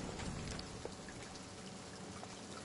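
Steady rain falling and pattering on surfaces in Silent Hill 2 Remake, a dense even hiss with scattered droplet taps, heard alone and fairly soft.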